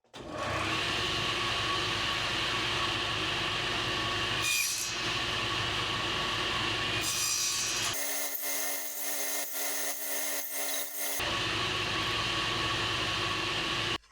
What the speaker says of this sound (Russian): Сейчас я выставлю пильный диск на 10 мм и отпилю боковины